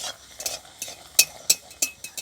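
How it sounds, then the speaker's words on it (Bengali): Kochuri, a stuffed fried bread, crackles in a little oil in a pan, with a few sharp sizzling spits and light utensil scrapes against a quiet background. "আর আমি কম তেলে ভাজছি কারণ কি বেশি তেল দিলে তেলটা পুড়ে যাবে"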